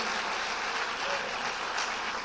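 Church congregation applauding during a sermon, a steady dense wash of clapping that fills the whole moment at moderate volume with no talk over it.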